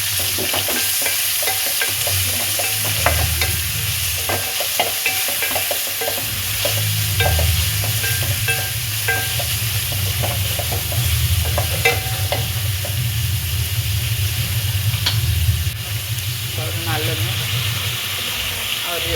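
Chopped onions fry in hot oil, a steady close sizzle broken by repeated scraping and stirring of a spoon against the pan, while someone talks over the cooking in a village kitchen.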